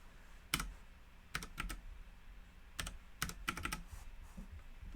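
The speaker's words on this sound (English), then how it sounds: "I hope you all can hear my nice new keyboard making clicky noises." A new clicky computer keyboard is typed on in short bursts of sharp, close keystrokes separated by brief pauses, faint and alone.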